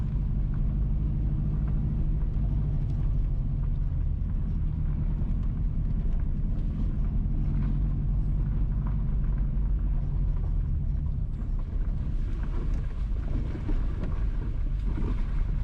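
A car drives east along a mountain road from Union toward Hamilton Mountain in St. Mary Parish, Jamaica, giving a steady, loud engine and road rumble with wind buffeting the microphone throughout and no talk.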